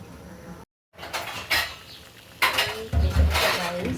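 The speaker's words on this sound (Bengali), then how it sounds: "নাড়াচাড়া দিয়ে আবার একটু ঢেকে দিলাম।" Chicken khichuri in a cooking pot is stirred with a metal spoon, producing several clattering scrapes and knocks against the pot amid faint sizzling, close by, with a brief spoken word.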